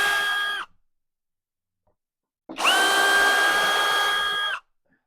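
Power drill used for bridge work on a Fender Jazzmaster guitar whirs loudly and close in two bursts, one brief at the start and a longer two-second run after a pause, with a steady high pitch and no talk.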